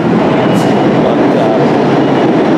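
A New York subway train roars past at close range in a steady, loud wash of rail noise with faint clicking, no voices.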